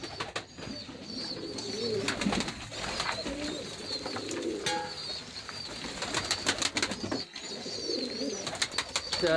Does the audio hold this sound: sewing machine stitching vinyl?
no